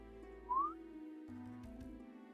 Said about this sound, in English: Slide whistle noise.